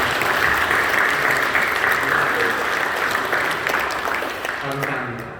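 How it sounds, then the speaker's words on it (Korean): A church congregation at a Passion Week dawn prayer service in Incheon gives warm, sustained applause for its students and youth, dense clapping that gradually thins out as a voice begins speaking near the end. "사랑하는 마음으로 뜨겁게 박수 한번 해주시죠"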